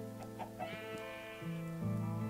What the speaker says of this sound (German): Und dieses hässliche Entlein hier.